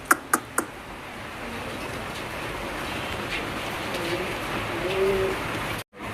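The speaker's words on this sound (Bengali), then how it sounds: "এখানে 2 পিস কবুতর দেখতে পাচ্ছেন, আর এটা হলো 2টাই গ্রিজেল কবুতর।" Two grizzle pigeons, one white grizzle, coo softly in a low murmuring call beneath steady background noise, after a few sharp knocks at the start.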